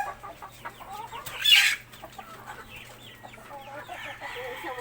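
Brooding hens on a backyard farm cluck and murmur in short, close, overlapping calls, with one louder burst partway through.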